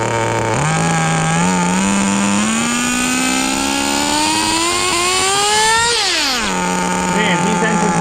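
A Kyosho FW-06 RC car's small nitro engine revving, a loud close buzzing whine that climbs steadily in pitch, peaks with a shift, then drops back to a lower drone.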